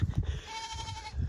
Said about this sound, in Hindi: वो ऊपर पहाड़ी बकरा भी खड़ा है, टेढ़ी बकरा